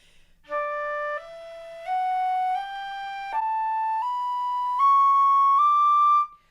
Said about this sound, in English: So I'm going to go back to harmonics and play a scale.